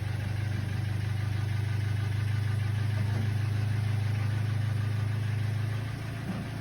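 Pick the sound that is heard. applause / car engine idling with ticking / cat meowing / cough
car engine idling with ticking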